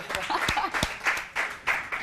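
A studio audience on a talk show claps in uneven bursts of a few sharp hand claps, close and moderately loud. A voice is also heard.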